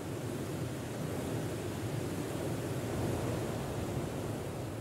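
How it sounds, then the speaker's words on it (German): Thundering roar of the Nile at Murchison Falls, where the whole river plunges about 40 meters through a narrow gorge; a dense, steady broadband rush that stays loud and constant throughout with no voices. "Mit donnerndem Getöse stürzt sich das Wasser 40 Meter abwärts."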